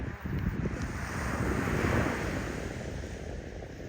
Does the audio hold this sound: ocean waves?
yes